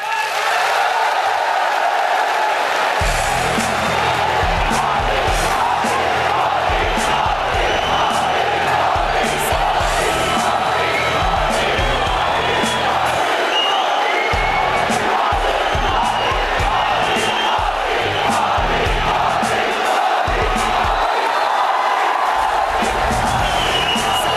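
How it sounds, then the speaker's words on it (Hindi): A large audience claps and cheers loudly in support during India TV's televised interview event with Prime Minister Narendra Modi: dense, continuous applause with bursts of shouting that swell and dip across the whole stretch. "हाथ उठाकर ताली बजाकर समर्थन करें"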